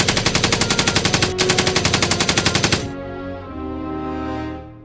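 A battlefield machine gun fires a rapid, loud burst of evenly spaced shots for about three seconds, then stops, leaving a fading ringing echo.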